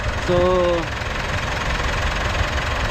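A 2016 Mitsubishi Montero engine idles after its alternator and compressor belts were replaced, a steady low rumble close by, with a brief tonal sound near the start.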